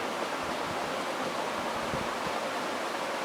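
Steady broadband rush of water jetting out of a hole in a container under pressure, a continuous hiss that holds level and alone throughout.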